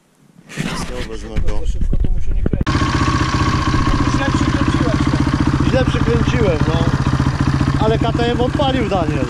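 A KTM motorcycle engine cranks, catches and fires up, then settles into a loud, close, steady clattering idle, with people talking over it.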